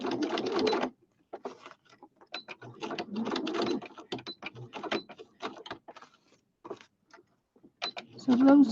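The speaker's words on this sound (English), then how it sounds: "I'm just going to sew around my flower" A sewing machine stitching around a fabric flower in a craft project, running in several stop-start bursts of rapid mechanical clatter separated by short pauses, fairly close and moderate in level.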